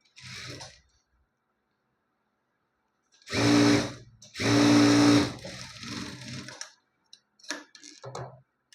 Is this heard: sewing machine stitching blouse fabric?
yes